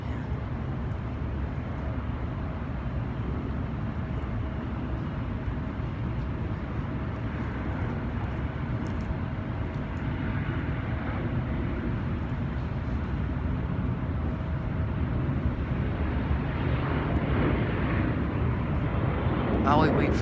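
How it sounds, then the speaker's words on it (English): Airliner engines running steadily at idle while waiting for takeoff clearance at Los Angeles airport, a continuous low rumble and hum heard from a distance with no talk over it. "While we wait for that airplane to take off"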